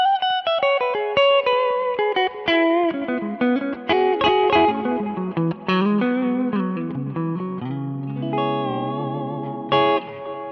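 An electric guitar plays a lively run of notes and chords through a Kemper profile of a small amp, with a slightly driven, chorus-like tone and some reverb.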